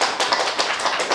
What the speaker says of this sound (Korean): 한번 감사 또 영광의 박수 주시기 바랍니다.